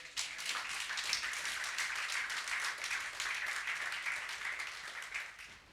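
A church congregation applauding, a dense, steady patter of many hands clapping at moderate distance for several seconds before tapering slightly at the end.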